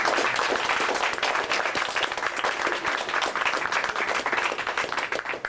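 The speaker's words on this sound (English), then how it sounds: "How about a quick round of applause for Dan Westcott and the Poetry Center for starting this featured reading series today." Dense, steady applause from an audience at a Barnes and Noble poetry reading, filling the room at an even level for several seconds with no voices over it.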